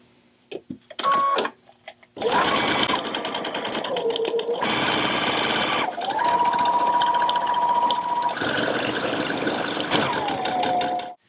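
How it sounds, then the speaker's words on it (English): A sewing machine runs a regular straight stitch in several bursts of rapid stitching, loud and close, with brief pauses and a few clicks between runs. "Regular straight stitch on your sewing machine and about a 1/2 inch seam allowance."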